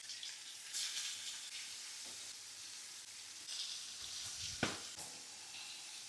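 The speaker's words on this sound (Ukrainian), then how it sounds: "Ваша задача зараз обсмажити печіночку до золотистості з двох сторін." Pieces of liver frying in oil in a pan, a steady soft sizzle with a few louder spits and crackles, with no voices.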